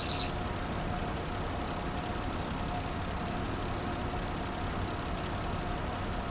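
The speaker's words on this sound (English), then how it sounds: "you can see the bale is getting cut up and it's filling the bin inside" A hay bale being cut up inside a feed mixer on a video game farm, heard as a continuous, dense mechanical drone with a low engine-like rumble that holds steady throughout.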